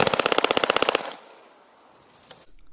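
Mac-10 submachine gun sound effect: one loud, rapid burst of about a dozen shots lasting roughly a second, followed by a fading echo and a faint click.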